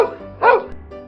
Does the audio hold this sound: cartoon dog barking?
yes